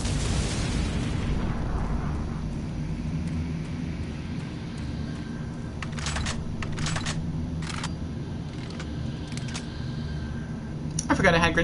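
Explosions boom in a first-person shooter game, a heavy rumbling blast at the start fading out, with sharp bursts of gunfire and impacts flickering through the middle and another hit at the end.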